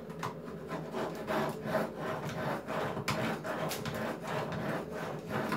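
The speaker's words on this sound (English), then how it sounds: "I'm going to sharpen the knife just while I'm here." A kitchen knife is drawn through a Kitchen Devil sharpener in a home kitchen, producing a quick run of steady, rhythmic rasping strokes, close and fairly quiet, with no talking.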